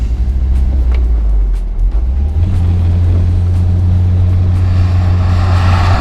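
A Volkswagen car engine pulls steadily under load while driving, giving a continuous, close, deep rumbling drone that holds for the whole stretch with no voices.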